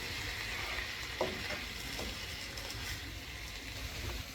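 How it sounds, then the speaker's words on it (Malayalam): Mango pickle in a pan gets vinegar poured in and is stirred, giving a steady low sizzle with soft scraping movements, close and even throughout. "അതിലേക്ക് ഞാൻ നമ്മളിവിടെ എടുത്തു വെച്ചിരുന്ന വിനീഗറും കൂടെ ചേർക്കുകയാണ്."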